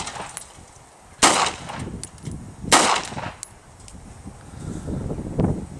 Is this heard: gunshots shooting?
yes